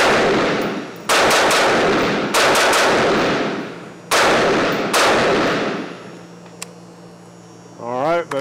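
Loud 5.56 NATO green tip rounds fired from a BCA side-charging upper in four sharp bursts of rapid shots separated by pauses, followed by a low hum and brief clatter.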